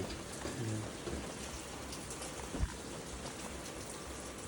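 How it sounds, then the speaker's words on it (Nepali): Steady rain pattering on surfaces, a continuous even wash of drops with one brief thump partway through, no voices. "यतिकै मजाले पानी परिरहेको छ"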